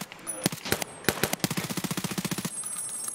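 Automatic gunfire in the online shooter Escape from Tarkov: a few separate loud shots, then a fast, even burst of about fifteen rounds, close and dominant, with faint talk behind it.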